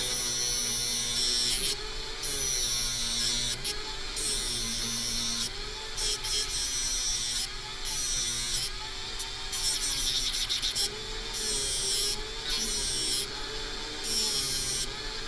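Steady motorized sanding of metal for a necklace, a continuous buzzing grind that rises and falls in short passes, close and loud with no talking.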